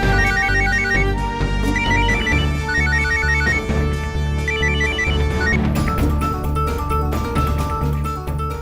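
A phone ringtone plays a repeating electronic melody in short, regular phrases, loud and steady for several seconds, with no voices.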